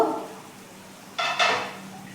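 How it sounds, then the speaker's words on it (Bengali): Posto chicken being stirred in a covered pot on low heat: a soft sizzle at the start, then two sharp metallic clatters of utensil and lid close together, with a faint simmer between them. "চিকেনটাকে একটু নাড়িয়ে নেব"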